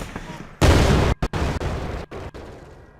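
Tank attack in the KARDS WWII card game: a sudden loud blast followed by a few sharp, choppy bursts that then fade, a close game explosion effect.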